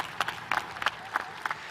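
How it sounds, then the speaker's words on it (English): Scattered, uneven clapping from a graduation ceremony crowd, with sparse individual claps and small bursts rather than a full ovation, thin and brief. "Let's give a round of applause for our hooligans."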